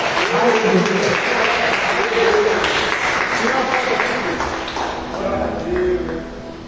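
A church congregation at a year-end Last Supper service claps, a busy patter of hands running throughout, with sung or spoken voices rising over it.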